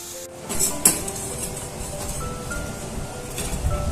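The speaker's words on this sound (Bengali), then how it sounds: "এবার আমি উঠিয়ে নিচ্ছি" Fried elephant foot yam fritters being lifted out of a pan of oil, with a few metal clinks and scrapes of a utensil against the pan over a low steady background sizzle.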